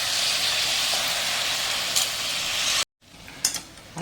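Washed rice tipped into a pan of frying spices, tomato, potato and peanuts for Maharashtrian masale bhat gives a steady close sizzle and stirring scrape, cut by a sudden drop before quieter crackle with brief rustles returns.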